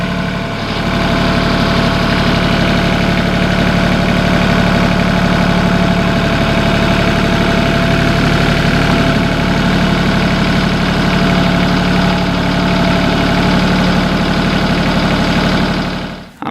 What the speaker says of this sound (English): I will love to show you around Mahindra Tractor. This one is the Max 22 HST